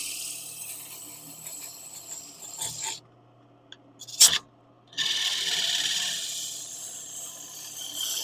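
A bull gouge cutting spinning wood on a lathe, a steady close rasping hiss that breaks off for about two seconds and then resumes just as strongly.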